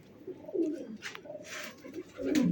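Pigeons coo softly at a rooftop loft, a few low rolling calls close by with faint flutters and rustling between them, no talk over them.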